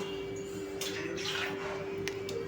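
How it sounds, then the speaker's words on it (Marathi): Water poured into a pan of thick pav bhaji, a short soft splashing pour near the middle, with a faint steady hum underneath and a couple of brief clicks toward the end. "मी आणखीन थोडं पाणी टाकते ह्याच्यामध्ये"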